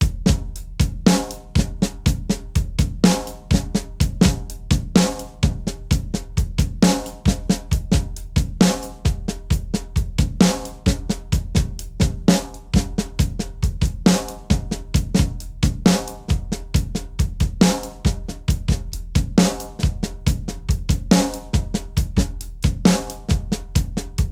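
Drum kit playing a slow paradiddle groove in 13/16, exercise number 17, with hands splitting accents onto offbeat 8th notes; steady, close, loud strokes repeating in an even cycle throughout, no voices.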